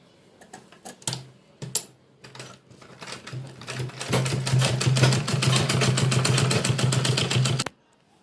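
A sewing machine stitches a vegetable organiser bag: a few short bursts and handwheel clicks at first, then a rapid, steady, close mechanical whir of stitching for about four seconds before it stops.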